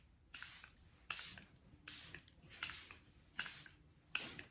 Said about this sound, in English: I'm gonna go ahead and set my face using the Charlotte Tilbury Airbrush Flawless Setting Spray